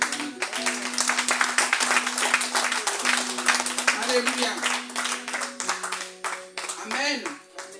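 A church congregation clapping and cheering in worship, brisk crowd applause mixed with voices calling out and sustained sung or shouted tones, loud and close throughout.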